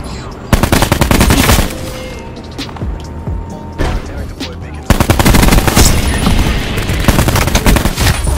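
Rapid automatic fire from a SWAT RFT MK II rifle in a shooter video game, loud close bursts broken by short pauses, with a long sustained burst at the end.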